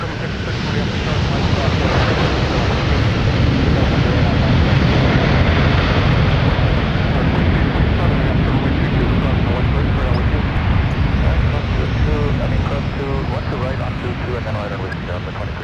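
A Delta heavy airliner touches down on the north parallel runway at Minneapolis–Saint Paul airport, a loud sustained roar of engine and rushing air that holds steady, then eases slightly toward the end.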